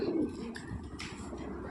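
Pigeons of a pure Bigdail breed, an old male and female pair, give soft low cooing close by, a short burst at the start and then quieter murmuring.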